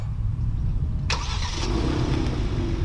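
A Kia Stinger GT engine cranks and fires, a sharp starter burst followed by the engine catching and settling into a deep, steady idle, heard close up with no voices.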